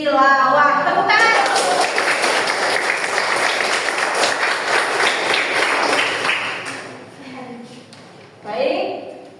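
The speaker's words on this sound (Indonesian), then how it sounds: "Tepuk tangan." A class of teacher trainees at an Islamic university in Bandung breaks into applause after a voice stops, a full, steady round of clapping that fades out, followed by a brief voice.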